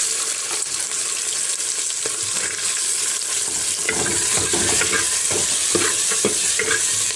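Spices, cumin and chili paste sizzle and crackle in a hot pan, with continuous frying hiss and bursts of stirring scrapes that grow busier toward the end.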